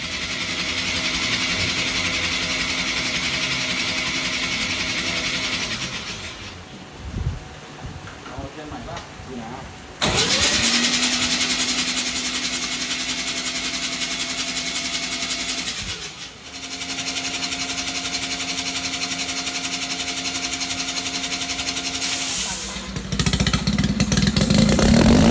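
A Mazda RX-7 13B rotary engine cranks and fires, running steadily with a buzzy drone and cutting out twice between attempts, then restarting and revving up sharply near the end. People talk over it.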